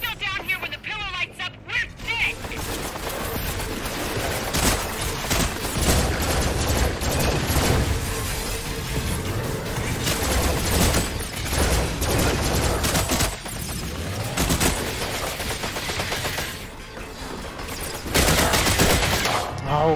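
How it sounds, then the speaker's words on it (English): Enemy gunfire in the VR shooter Farpoint, with several attackers firing at once in sustained bursts, loud and continuous, mixed with game sounds and someone talking over the action. "There were like four of them shooting all at me."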